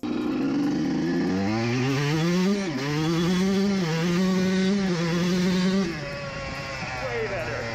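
A motorcycle on a test ride after a slipping-clutch repair runs loud and close, its engine revving up and down through gears before easing off near the end.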